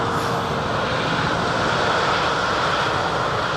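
British Airways Boeing 787-10 Dreamliner rolling for takeoff at London Heathrow, a loud, steady engine roar with a broad hiss, sustained and unbroken.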